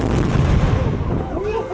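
A historic cannon firing at Fort Macon, a loud booming blast with a rumbling, smoky roll-off lasting under two seconds.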